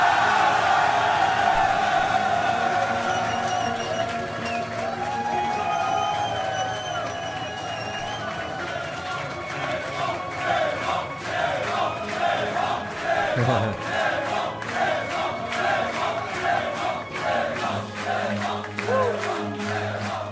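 Arena crowd roars and cheers at a StarCraft 2 esports grand final as the winner lifts the trophy, a dense sustained wall of cheering with excited shouts and commentators talking over it.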